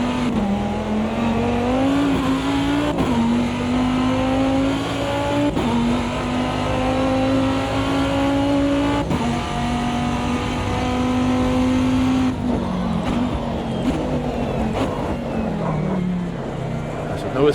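Dodge Viper GTS-R race car with an 8-liter V10 in the AMS2 racing game, engine droning loudly and steadily with rising revs and sharp shifts throughout, a low rumbling note holding under occasional talk.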